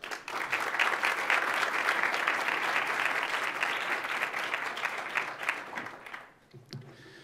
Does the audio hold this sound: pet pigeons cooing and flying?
no